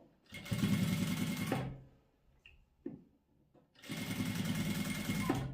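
Sewing machine stitching a strap onto a velour sofa cover, two loud close bursts of rapid stitching with a quiet pause and a few small clicks between, and no voices.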